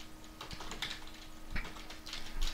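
Someone types a file name on a computer keyboard, quick close keystrokes in small irregular clusters, soft and alone with no talk.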